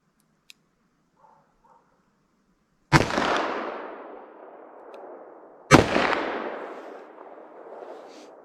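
Two loud .357 Magnum gunshots fired at a target with Federal Train + Protect ammunition, a few seconds apart, each a sharp crack followed by a long, fading outdoor echo over near silence.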